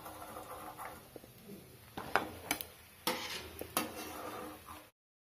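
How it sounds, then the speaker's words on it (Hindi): Sooji mathri deep frying in hot oil, a soft sizzle under clinks and stirring scrapes of a utensil against the pan, several sharper knocks in the middle before the sound cuts off abruptly. "इसी तरह से हम सारी मठरियों को डीप फ्राई कर लेंगे।"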